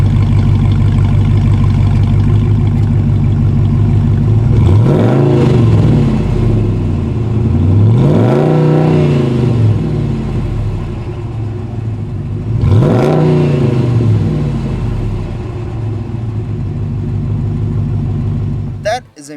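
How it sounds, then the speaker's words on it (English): A truck engine with a MagnaFlow exhaust idles with a deep exhaust burble, then revs up three times in quick swelling bursts before settling back, loud and close. "That is a MagnaFlow exhaust."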